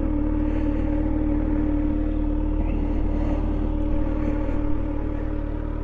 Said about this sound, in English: Isn't that one beautiful bike right there?